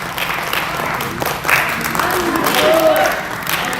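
An audience at a book concert in the international conference hall of Ansan Arts Center claps in welcome, a moderate ripple of applause that swells toward the end while voices carry on over it.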